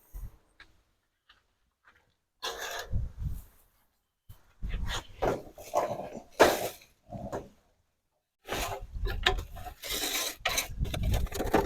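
A scraper works over the grates of a Weber Genesis E330 barbecue grill in short, gritty scraping strokes, close and uneven, with quiet gaps between bursts.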